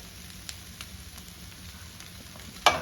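Butter hits a hot pan and sizzles in a soft, steady close hiss, with a few faint taps and a sharp clatter near the end.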